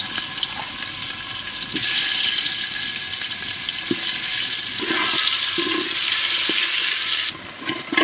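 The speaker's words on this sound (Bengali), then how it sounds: "হালকা করে আলুটারও সেদ্ধ আলু ভাজে দিলাম।" Boiled potatoes frying in hot oil in a village kitchen, a loud, steady sizzle and hiss that runs continuously, with a few faint knocks and a brief dip near the end.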